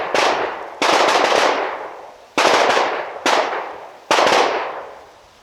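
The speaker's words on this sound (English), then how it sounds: "So much shooting. There's so much shooting." Gunfire from rapid shooting practice during recoil-control training: five loud, close bursts of quick shots, each ending in a long ringing decay, with short gaps between strings.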